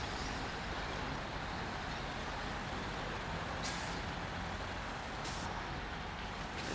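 A truck engine in the SnowRunner video game drones in a steady, loud, dense rumble, with two short hissing bursts of air release breaking through partway along.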